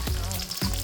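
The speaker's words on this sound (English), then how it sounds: "we'll put in the egg. See how it fries nice and good there?" An egg frying in a hot pan for street-style Phad Thai, a steady close sizzle with a couple of low thumps, loud and continuous with no talk.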